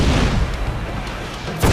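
Pirate ship cannons fire in the Assassin's Creed IV: Black Flag game, loud heavy booms rolling together with a fresh blast at the end, dense and close with no voices over them.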